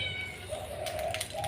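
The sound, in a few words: cat meowing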